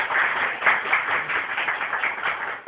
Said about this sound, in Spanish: dé un aplauso al Señor por nuestro hermano